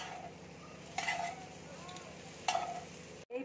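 Egg cutlet filling topped with coriander leaves is stirred in a frying pan, a faint sizzle underlying two brief scraping strokes of the spatula, followed by a short cut to silence at the end.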